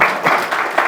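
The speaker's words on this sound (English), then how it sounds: "He is the one who deserves an absolute round of applause." Audience applause at a fireside chat event, a brief burst of close, dense clapping lasting about a second.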